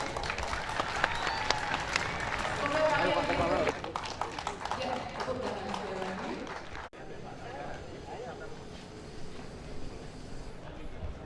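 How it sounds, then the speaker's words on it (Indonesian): A crowd of students applauds at a school assembly marking an anniversary event, with sustained loud clapping and cheering that drops off partway through and continues more softly afterward. "tepuk tangan anak-anakku semuanya"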